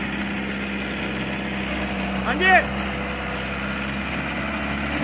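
An Ace 450 tractor engine, 45 HP, idles steadily with a low, even rumble throughout; a voice briefly speaks over it midway.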